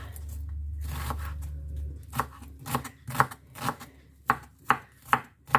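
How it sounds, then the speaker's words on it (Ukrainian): Onion finely chopped with a knife on a board, a run of crisp, evenly spaced cuts that sharpen after a quiet start, close and alone without talk. "дрібненько цибульку кришу"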